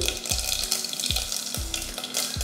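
Mustard seeds, urad dal, a dried red chilli and asafoetida crackle in hot oil in a cooking pot, a faint steady sizzle marked by regular low thuds and clinks, close by and without talk.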